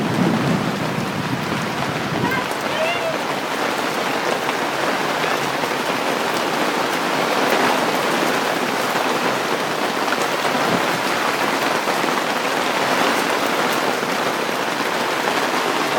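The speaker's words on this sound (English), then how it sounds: "God, look at the hail." Heavy hail and rain pounding on surfaces outdoors, a loud, dense, continuous patter with no letup, broken by a few sharper knocks.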